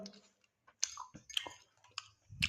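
Close, quiet chewing of pakhala, fermented rice, with soft wet bites and clicks in an irregular rhythm and no talk over it.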